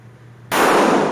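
Single sharp gunshot at a firing range during shooting practice, a loud close blast that bursts suddenly after a quiet moment and rings on briefly.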